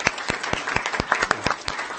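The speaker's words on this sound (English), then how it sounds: "Let's give that a round of applause." A school district board of trustees meeting audience gives a round of applause, short sharp claps from a modest group in a room, fairly close and unaccompanied by talk.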